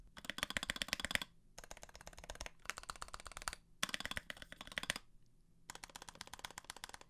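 Mechanical keyboard with lubed, smooth stabilizers typed on quickly, runs of soft, even keystrokes in bursts with short gaps, close and quiet, a muted, clean clack without rattle.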